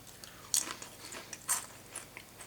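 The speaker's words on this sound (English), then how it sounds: "I usually edit out my chewing" Crunchy Texas BBQ Brisket Pringles chips being chewed close up, a series of sharp crisp bites and crunches repeating irregularly over a quiet background.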